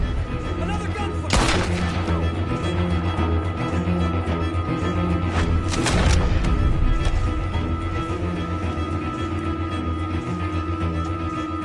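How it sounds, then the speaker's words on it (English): Gunfire in Red Dead Redemption 2, a few sharp broadband shots standing out at two or three moments over a steady game soundtrack with a low humming drone. "Another gunfire!"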